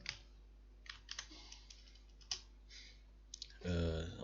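Keystrokes tapped on a computer keyboard while entering a resource unit in project-planning software, a scattered handful of light clicks over a steady background hum, ending in a louder burst of clattering.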